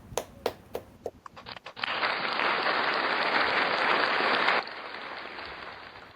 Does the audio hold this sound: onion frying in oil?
no